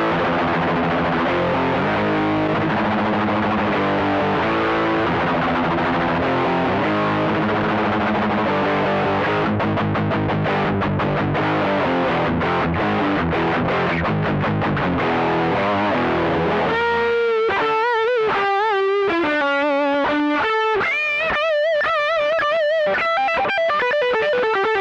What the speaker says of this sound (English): Overdrive, more overdrive,